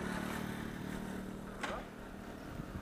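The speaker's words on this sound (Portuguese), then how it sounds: "Cuidado da moto aí." A motorcycle passes along a beach street at Brava Beach, its engine rising briefly mid-clip over steady background rumble and wind, moderately distant.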